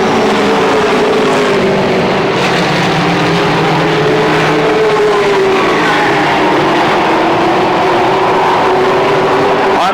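Stock cars race down the back straightaway at Motordrome Speedway in 1992, a loud, continuous blend of roaring engines held at full throttle, with pitch rising and sweeping slightly as the pack passes close by.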